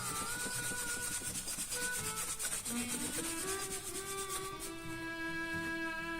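A denim rag rubs briskly along the edge of a handmade leather wallet to polish it, making a close, steady scratchy friction sound with rhythmic strokes and faint squeaky tones.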